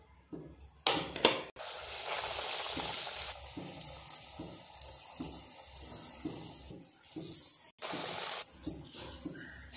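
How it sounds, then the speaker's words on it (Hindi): Green chillies coated in gram flour batter sizzle and crackle in hot oil, a steady close frying hiss with wet bubbling pulses and a couple of brief sharp breaks. "अब हम इसी तरह से मिर्ची फ्राई कर लेंगे, अच्छी तरह से इस पे बेसन की कोटिंग कर लेनी है।"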